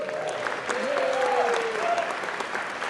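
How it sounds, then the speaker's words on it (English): Audience applause at a spring convocation ceremony, a dense sustained clapping from a large crowd filling the whole stretch, steady and fairly loud, with a voice briefly audible underneath. "I'd like to give Carol a big round of applause for her work."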